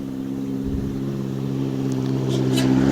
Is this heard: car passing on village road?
yes